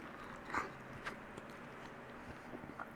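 Someone chews a bite of cooked cabbage with a little crunch left in it, giving a few faint, close crunches at irregular intervals over quiet room tone.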